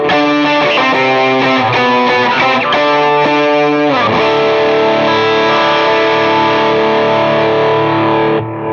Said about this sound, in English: That's a decent gain sound, but it's still too round.